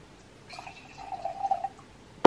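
A drink poured into a glass, giving a soft trickling, gurgling pour for about a second, quiet and close, with a sharper knock at the very end.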